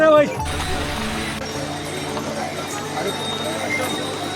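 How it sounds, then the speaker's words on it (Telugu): Horses' hooves clop steadily over a rough mountain trail descending from Kedarnath, several animals moving together, with voices and outdoor noise mixed in. "గుర్రాలు అయితే మీదకి వచ్చేస్తున్నాయి"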